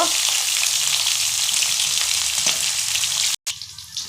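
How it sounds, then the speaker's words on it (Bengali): Pointed gourd frying in hot oil for a potato and pointed gourd dum, giving a steady close sizzle throughout with one brief dropout near the end and no talk. "এবার পটলগুলোকে ভেজে নেব।"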